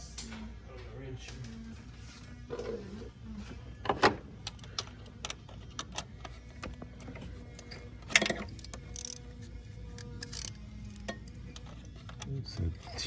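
A wrench loosens a T30 bolt on a 2019-or-later Mercedes Sprinter fuel filter in a cramped spot, giving sparse ratcheting clicks and metallic knocks, with sharper clanks near the start and middle over a low background hum.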